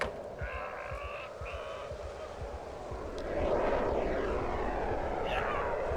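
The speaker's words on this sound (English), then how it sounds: "Those are jet sounds." Jet aircraft roar in the zombie survival game Project Zomboid, with a low rumble that swells into a louder, sustained whooshing pass over the second half, alongside some faint muffled thumps.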